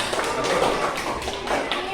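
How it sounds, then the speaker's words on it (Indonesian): Classroom clapping from students during a teacher's performance assessment session in Banten, a short burst of dense hand claps filling the room, with voices mixed in. "Ya, bagus, tepuk tangan ya, tepuk tangan"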